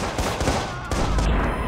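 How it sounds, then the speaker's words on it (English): A police officer's shotgun firing in the game Watch Dogs, heard as several loud blasts close together amid the noise of the fight. "look who's shooting at me. Police guy with a shotgun."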